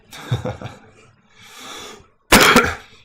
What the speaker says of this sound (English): Apologies for the cough.